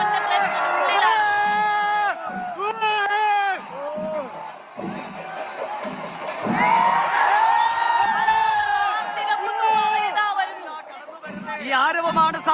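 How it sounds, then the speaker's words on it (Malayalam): A large crowd cheers and whoops for the elephant Thechikottukavu Ramachandran at Thrissur Pooram in Kerala, with loud rising roars and shouts swelling in waves across the whole stretch, a dense festival din without a break. "ഈ ആരവമാണ് സാക്ഷി. ഈ ആയിരക്കണക്കിന് മനുഷ്യരാണ് സാക്ഷി."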